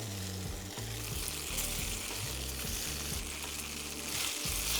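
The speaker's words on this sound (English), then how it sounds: "And get my tofu in there. Let that just warm up a bit" Tofu fries in rapeseed oil in a pan, a steady loud sizzle running the whole time under a low, rhythmic clunking.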